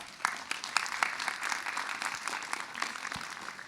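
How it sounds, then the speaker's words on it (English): An audience applauding musicians at a collaborative concert in a hall, a steady wash of many hands clapping, moderately distant and sustained throughout. "So please give a big applause to all the musicians."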